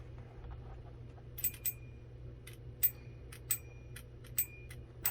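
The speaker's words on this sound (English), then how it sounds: "the little copper thing smacking the bell" A Hyundai chime module's small copper striker smacks its bell several times at uneven intervals, each a sharp, close metallic ding with a short ring over a faint low hum.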